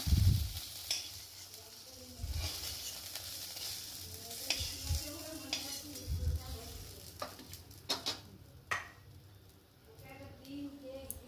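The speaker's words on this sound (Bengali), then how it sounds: "এবার বড়ি ভেজে নিচ্ছি" Bori lentil dumplings fry in hot oil with a crackling sizzle, broken by clinks and scrapes of stirring in the pan and a few low knocks, while a voice is faintly present in the background.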